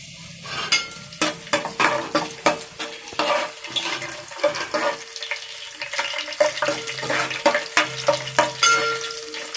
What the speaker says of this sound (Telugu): స్టవ్ వెలిగించుకొని ఆయిల్ వేసుకొని, ఆయిల్లో ఫస్ట్ అల్లం, జింజర్, ఆయిల్ వేడెక్కాక జింజర్ వేయాలి.